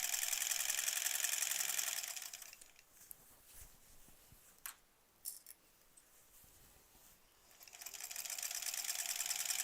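Sewing machine motor stitching quilt borders hums steadily and fairly loud, stops for several seconds with light clicks and handling, then starts running again near the end.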